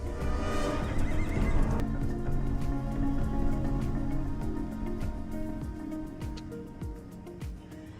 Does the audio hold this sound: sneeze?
no